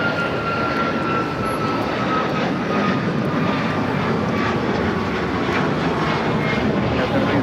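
United Airlines Boeing 737 MAX 9 jet roaring steadily through its takeoff roll at LAX, a loud continuous engine rumble that holds constant throughout without any voices over it.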